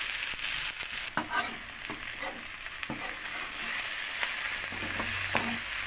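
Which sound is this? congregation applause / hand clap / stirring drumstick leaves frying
stirring drumstick leaves frying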